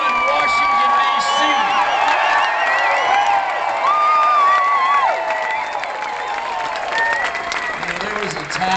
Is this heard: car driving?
no